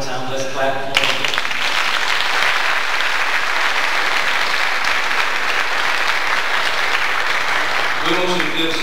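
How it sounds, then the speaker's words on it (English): A church congregation claps for a gospel singing group. The applause is loud and sustained, with brief tonal voice or music sounds just before it starts and again as it ends. "Let's clap for them."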